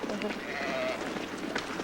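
Sheep bleat close by as a herding dog moves them, a short wavering cry over steady background noise with a voice speaking.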